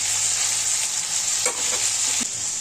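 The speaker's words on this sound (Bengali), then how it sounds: "এবারে সব মশলার সাথে ভালোভাবে আবার আমরাগুলো নেড়ে চেড়ে মিশিয়ে নিচ্ছি" Hog plums for a Bengali chutney are stirred in a hot pan with salt, turmeric and chili powder, giving a continuous close sizzle with a few scraping strokes of a spatula and no speech.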